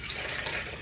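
Warm water runs steadily into a mixing container for a honey mixture, a continuous close hiss of pouring liquid over a short moment with no talk.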